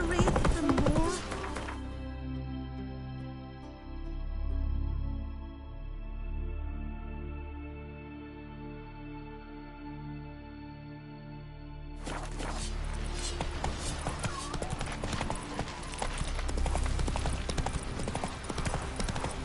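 Roach the horse's hooves clip-clop in steady rhythm across The Witcher 3 game world, loud and close, fading to a quiet stretch mid-way before resuming, with voices talking over them.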